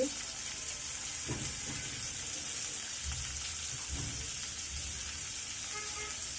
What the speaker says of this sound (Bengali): এখানে আমি বড় সাইজের দুটি পেঁয়াজ কুচি করে দিয়ে দিচ্ছি